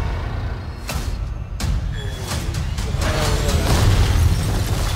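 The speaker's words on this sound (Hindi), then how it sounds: "ओ, वो पूरा व्हाइट हाउस उड़ा दिया।" Movie explosion as the White House is blown up in a Captain America: Brave New World teaser, a loud booming blast with broadband rumble and bursts under a music-heavy soundtrack.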